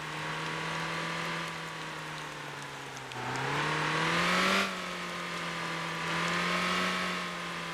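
Bus engine in the video game Motor Town: a steady, droning motor hum that rises in pitch as the bus accelerates, dips briefly, then swells again, heard close and continuous with no talk.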